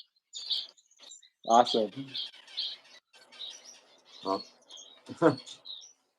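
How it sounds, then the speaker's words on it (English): Gouldian and zebra finches chirp in short, high, repeated calls scattered throughout, close by, while a person speaks a few brief words between them. "Gouldians are almost as numerous here as zebra finches."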